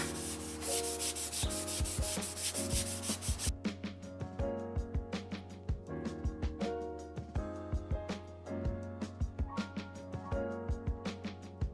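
Sanding the lip of a winter-damaged car wheel: a steady abrasive rubbing with a dense hiss at first, then repeated rhythmic scraping strokes, close and fairly loud, with no talking.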